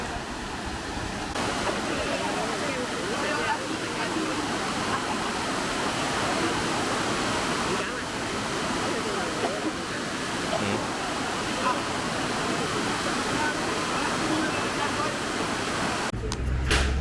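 A waterfall cascade at Sungai Lembing pours over large rocks in a continuous, loud, dense rush of water that holds steady for the whole stretch, with no voices heard.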